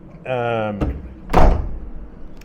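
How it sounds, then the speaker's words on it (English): A building door to the common areas of an apartment tower swings open with a solid thunk and rattle, heard up close after a short hum, with a person speaking nearby. "I open up the door to the common areas"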